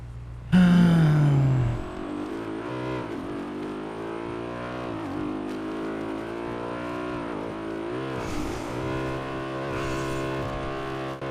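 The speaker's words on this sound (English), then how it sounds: "He's heading into town driving fast" A car in the game GTA roars as it speeds into town, with a loud engine burst and falling pitch at first, then a steady, sustained engine drone under a music-like tonal bed.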